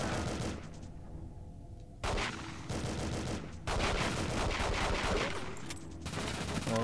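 Gunfire in the first-person shooter James Bond 007: The World Is Not Enough: repeated bursts of shots, loud and close, broken by brief gaps, with no talking.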